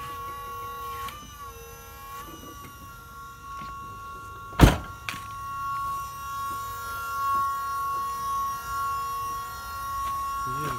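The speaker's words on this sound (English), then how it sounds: "Electric power steering." An electric power steering pump whirs in a Chevrolet Impala SS with a swapped supercharged 6.2L LT engine as the wheels turn. A steady tonal whine holds throughout, broken midway by a single sharp thunk, heard close.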